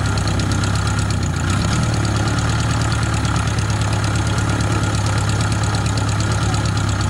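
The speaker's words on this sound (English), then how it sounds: "It's a home-built aircraft with a 65 horsepower engine in it." A small 65 horsepower engine on a home-built aircraft with no starter idles steadily at an air show, a continuous low rumbling drone with a faint knocking pulse, close and loud throughout with no talking.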